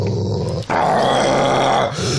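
A dog growls low and steady, close and fairly loud, with a rough rumbling tone that dips briefly partway through.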